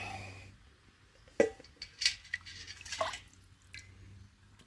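Broth poured into a pot of wine-braised food while cooking, heard as soft, quiet splashes and drips of liquid with a few faint clinks, in a calm kitchen.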